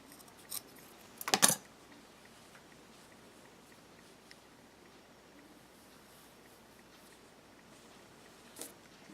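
Scissors snipping crochet yarn while a crocheted hat rosette is fastened off: a brief, crisp cluster of cuts close by, set against quiet room tone with a couple of faint small clicks around it.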